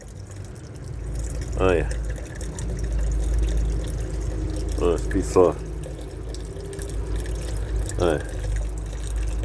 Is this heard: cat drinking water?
yes